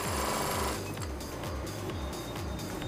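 A sewing machine runs steadily, stitching a double seam along the edge of a Punjabi dress pocket, with a continuous rapid mechanical chatter and no speech.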